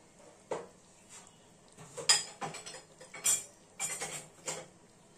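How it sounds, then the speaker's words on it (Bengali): Metal clinks and clatters as a lid is set onto a cooking pot while chicken cooks in a home kitchen, several sharp knocks and scrapes spread over a few seconds, close and moderately loud, no talk. "আমি এখানে ঢাকা দিয়ে দিচ্ছি।"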